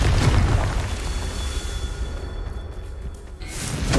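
A Confringo blasting spell bursts in Hogwarts Legacy, a loud low boom that rolls into a rumbling decay, with a second whooshing burst near the end.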